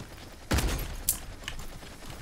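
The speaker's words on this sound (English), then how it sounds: "I'm being shot by the rifle." Rifle gunfire in the Paladins Realm Royale game: a quiet, distant burst of shots followed by a sharper crack a moment later, over low background game ambience.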